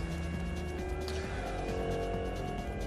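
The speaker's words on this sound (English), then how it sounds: "Someone in a dilapidated car comes skidding past." A dilapidated car comes skidding past in a chase scene, with loud continuous engine roar and tire squeal that stays close and steady throughout, without any talking.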